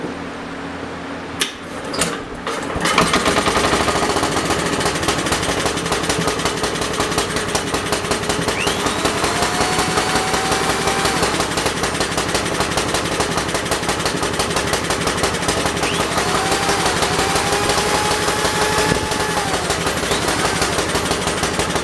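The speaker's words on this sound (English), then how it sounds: "I want to see what happens when you put a drill on it." An electric drill powered by a generator whirs steadily and loudly after a brief quiet start, with a rough, buzzing mechanical drone and some rattling throughout.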